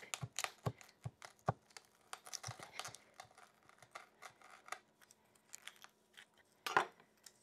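A kitchen knife rocks down through a pineapple, pressed on its dull spine, giving quiet, close, irregular crisp crunches and clicks as the fibrous fruit splits, with no talking.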